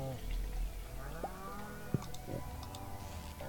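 A cow mooing in the Stardew Valley video game while being milked, a low drawn-out moo over a farm soundscape with light clicks and soft chimes, fairly quiet.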